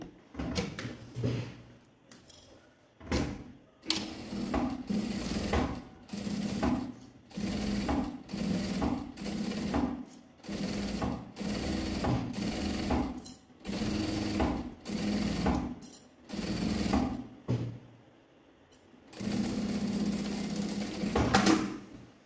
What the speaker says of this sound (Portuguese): Agora vem, passa uma costurinha na beiradinha.